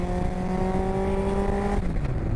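Road-legal Cup 200 racecar engine accelerating loudly up close, a strong rising harmonic roar that drops in pitch at a gear change near the end.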